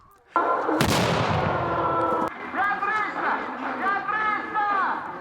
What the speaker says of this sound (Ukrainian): Різноманітна вогнева підготовка у парі наодинці під час штурму і зачистки позицій.